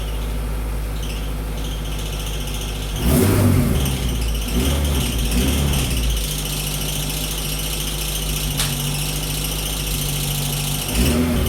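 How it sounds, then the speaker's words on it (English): A worn alternator on a running car engine gives off a steady, loud high-pitched squeal close by, over the engine's hum, with a few brief revs partway through and no voices. "I think that alternator's getting worse."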